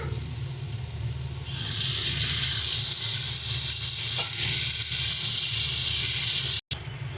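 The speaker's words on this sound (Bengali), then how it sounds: "এবারে আমরা দিয়ে দিচ্ছি একটু মাখা মাখা পরিমাণে জল।" A frying curry of jackfruit seeds with kharkol leaf tips bursts into a loud, steady hiss as water is added to the hot pan, holding a sizzle until a brief cutout near the end.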